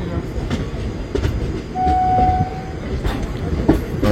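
A passenger train stands at New Jalpaiguri station, heard as a low rumbling hum with scattered clanks, and a brief horn-like tone sounding in the middle.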